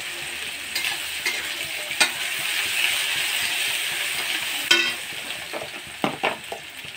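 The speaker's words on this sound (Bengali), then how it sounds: "আমি ফোড়নে দিয়ে দেব কুচি করা পেঁয়াজ, আর দিয়ে দেবো তেজপাতা" Chopped onion and bay leaf sizzle steadily in hot oil as a tempering for a koi fish curry with cauliflower and potato, a continuous bright frying hiss punctuated by a few stirring clicks and spatters, close and alone.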